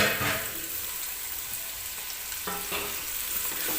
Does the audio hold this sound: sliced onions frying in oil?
yes